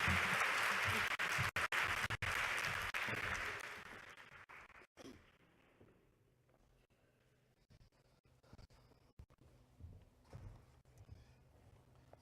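Audience at an NHS England nursing and midwifery event breaks into loud sustained applause that fades out after about four seconds, leaving quiet room noise with a few scattered sounds.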